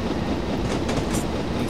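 A train in the video game Train Simulator 2012, running on British railways, rumbles continuously and loudly with rhythmic wheel clatter and a faint metallic squeal.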